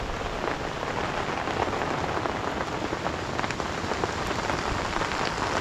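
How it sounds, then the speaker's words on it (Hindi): Heavy rain pours steadily and densely on a tent nearby during a camping storm, a constant loud hiss with pattering drops and no voices. "अभी तो इतनी बढ़ गई है बारिश"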